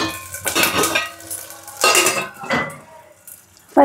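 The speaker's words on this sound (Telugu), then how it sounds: "ఫైవ్ మినిట్స్ మూత పెడదామండి" A lid is set on a cooking pot of simmering tomato and mutton kheema, with a few metallic clatters and scrapes in separate bursts and a sharp clank at the end, close and without talk.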